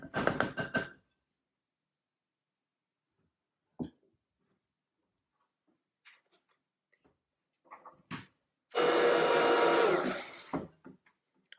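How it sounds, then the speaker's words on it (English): A loud, steady whir of a hand blender whipping body butter runs for about two seconds, preceded by scattered knocks and clatter, with brief bursts of noise at the start. "then I'm going to take my hand blender and whip it."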